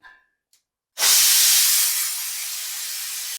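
A pressure cooker, used while preparing a simple Kerala lunch, lets out a loud sustained hiss of escaping steam that starts abruptly after brief faint clicks and holds steady for over two seconds, close and alone.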